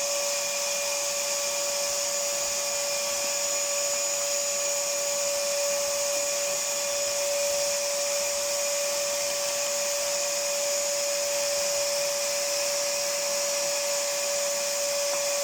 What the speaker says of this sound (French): Ensuite, je viens aspirer tout l'intérieur.